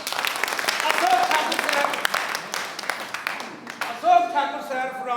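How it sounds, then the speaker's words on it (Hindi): Audience clapping welcomes a leader onto the stage, heard as scattered, uneven applause beneath a loud announcer's voice that speaks over it and briefly rises above it. "ठाकुर सर फ्रॉम सिंहेश्वर, जोरदार तालियों के बीच जानदार लीडर"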